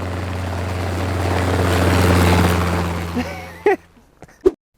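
A helicopter's loud, droning engine hum fills the air on Réunion Island, swells, then cuts away abruptly, leaving a couple of brief voices.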